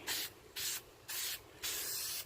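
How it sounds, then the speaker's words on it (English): Aerosol spray paint can test-sprayed onto a panel while restoring faded motorcycle trim, four short hissing bursts with brief pauses between them, close and clear with no talking. "So let's go ahead and start spraying."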